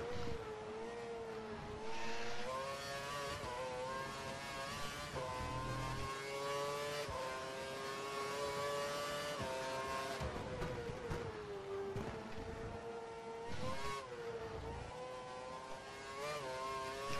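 An F1 car in the F1 2012 racing game screams at a loud, continuous high engine pitch in fifth gear, rising and dipping through shifts and corners on the Chinese circuit.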